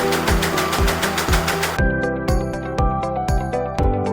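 Sewing machines run in the sewing department of a Vietnamese garment embroidery factory, making rapid, even mechanical stitching rattles close by that keep going through the whole clip.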